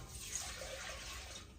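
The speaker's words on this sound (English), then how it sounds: "I'm adding 2 cups of water to go with my taco soup," Water pours steadily into a taco soup mix, a short continuous splashing rush at moderate loudness with no talk.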